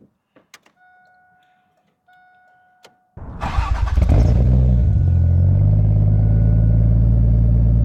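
A Toyota Supra MK3 Turbo starts after a few faint clicks, cranking briefly and catching into a loud, steady idle that carries on close by with no talk over it.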